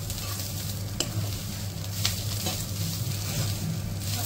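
Goan masala with green chili for wild mushroom xacuti fries with a steady sizzle in a pan, with a few sharp scraping stirs breaking through the continuous hiss.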